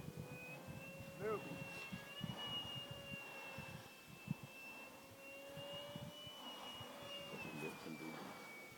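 A model airplane engine runs at full throttle during a flight-team session, a sustained high-pitched whine that drifts slightly in pitch as the plane passes, heard at a distance alongside outdoor voices.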